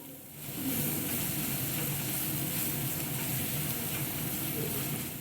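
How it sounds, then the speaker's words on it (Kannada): Chopped onions fry in a pan with curry leaves, giving off a steady, soft sizzle with faint stirring that holds evenly throughout, close by and fairly quiet. "ಇದಕ್ಕೆ ಹೆಚ್ಚಿಟ್ಕೊಂಡಿರೋ ಈರುಳ್ಳಿನ ಹಾಕಿ ಸ್ವಲ್ಪ ಲೈಟಾಗಿ ಬ್ರೌನ್ ಕಲರ್ ಬರೋವರೆಗೂ ಇದನ್ನು ಫ್ರೈ ಮಾಡ್ಕೋಬೇಕು"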